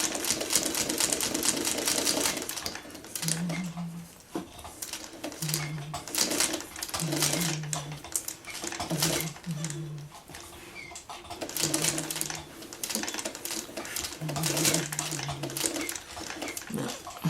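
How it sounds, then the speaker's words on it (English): A sewing machine top stitches a loose square on a churn dash quilt block in short bursts of rapid, close needle chatter separated by brief pauses, with a faint hum and light background sounds. "So I'm just going to top stitch between 1/8 of an inch to 1/16"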